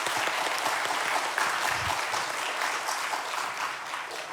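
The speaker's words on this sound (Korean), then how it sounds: "우리 수고해준 청년들에게 우리 격려의 박수를 한번 보낼까요?" Church congregation at a Korean Sunday afternoon service applauding, a dense, steady burst of clapping from a crowd, fairly close and loud.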